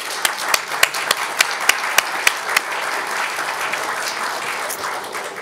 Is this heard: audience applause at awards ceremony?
yes